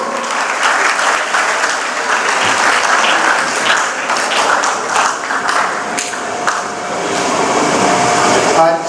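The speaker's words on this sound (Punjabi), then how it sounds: "ਪ੍ਰਿੰਸੀਪਲ ਸਰਦਾਰ ਨਰਿੰਦਰ ਸਿੰਘ ਜੀ ਪਟਿਆਲਾ ਅੱਗੇ ਤਾਲੀ ਮਾਰਦਾ ਕਰੋ" A crowd applauding at a college Teeyan festival celebration, dense sustained clapping that fills the whole stretch at a steady, loud level.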